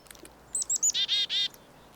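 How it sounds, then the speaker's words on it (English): Chickadees call close by on a quiet snowy day in Newfoundland, a quick run of about six bright chirps, the first few thin and high, the last ones fuller, alone in still air. "I heard a couple chickadees close by."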